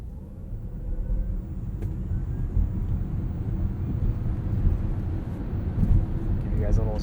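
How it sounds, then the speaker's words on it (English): A 2021 Ford Mustang Mach-E Premium AWD accelerating from 0 to 60, heard from inside the cabin as a loud, steady low rumble of road and wind noise that holds for several seconds. "Give you guys a little 0 to 60 there."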